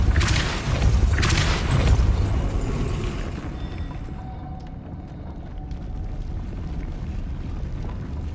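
A Depulso spell cast in Hogwarts Legacy lands as a loud booming burst with a noisy rush, then fades into a low rumbling ambience with scattered faint clicks.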